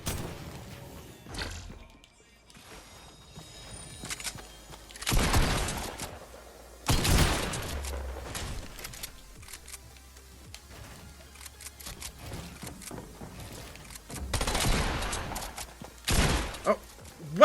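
Bursts of SMG gunfire in the video game Fortnite, several loud broadband volleys spaced through the clip, with other game sounds and low rumble between them.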